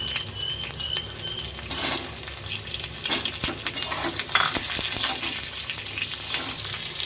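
Mango pieces frying with mustard seeds and dried red chilli sizzle steadily and fairly loud, with crackles, spatters and occasional stirring clatter over a continuous hiss, and no voices.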